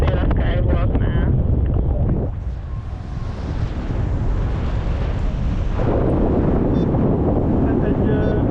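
Strong gusty wind buffets the microphone at the Skywalk paragliding launch on Hohe Wand, a heavy roaring rush that dips briefly then surges again, with a voice speaking faintly underneath.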